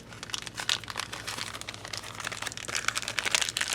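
Thin plastic packaging around a pack of Dunlop 12-gauge guitar strings crinkles and crackles up close, a steady run of small sharp crunches with no talking.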